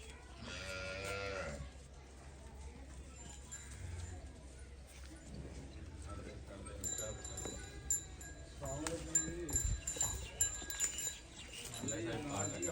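Cattle at a livestock sale, including a buffalo heifer and Cholistani and Friesian cows, give low, drawn-out moos near the start and again later, faint and partly under nearby talking.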